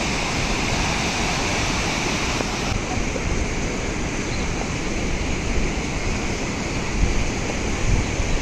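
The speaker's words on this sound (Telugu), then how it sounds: "వాటర్ ఫాల్ అయితే, సూపర్గా ఉంది." Kondapalli waterfall near Kilesapuram dam outside Vijayawada pours in a continuous, loud, even roar of rushing water that fills the whole stretch without pause.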